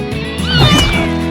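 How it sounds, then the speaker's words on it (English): A cartoon cat lets out a single loud, rising-then-falling meow, close and alone, over a faint background. "Okay, I had to save the cat."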